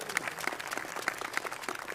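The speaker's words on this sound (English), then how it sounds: "Give our young people a big round of applause." A press-conference audience at the Bayou Classic gives a round of applause, a light, uneven scatter of individual claps rather than a dense roar, with distinct sharp hand strikes standing out.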